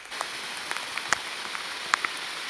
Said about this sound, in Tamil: சைலண்ட்டாக கேட்டு பார்த்தீங்கன்னா அந்த மழை தண்ணி விழுகிற சத்தம் நல்லா கேட்கும்